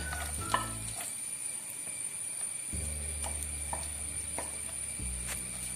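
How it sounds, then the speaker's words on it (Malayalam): Chopped garlic fries in hot oil for a Kerala beef pickle, producing a continuous close sizzle broken by several stirring scrapes and clinks. "ഇതിലോട്ടേക്ക് അരിഞ്ഞ് വെച്ചിരിക്കുന്ന വെളുത്തുള്ളിയും കൂടി ഇട്ട് വറുത്തെടുക്കാം"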